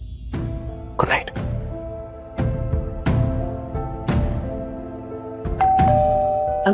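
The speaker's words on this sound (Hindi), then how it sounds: "अगली सुबह घर की डोरबेल बजी।" A doorbell chimes repeatedly, ringing out several ding-dong tones that decay between strikes, with a faint hum underneath.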